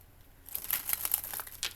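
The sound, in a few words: shuffling tarot cards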